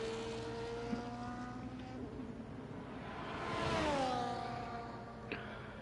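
Formula 1 cars on out laps around the Bahrain circuit in a racing video game, engine whine rising and falling in pitch as a car passes, with a louder swell near the end, steady and moderately near.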